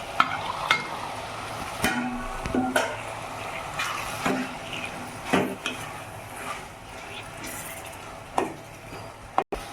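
Tomatoes fry in a pan for a cashew mushroom curry, a low steady sizzle under repeated sharp scrapes and clinks of a spoon stirring against the pan, ending with a sudden knock.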